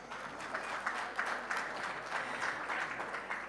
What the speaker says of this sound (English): I thought we were going to clap hands.